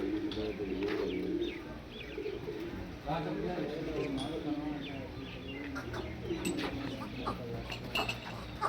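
A pair of pigeons coo softly on a Pakistani cattle farm, giving low repeated throaty coos with faint chirps over a steady background murmur and distant voices.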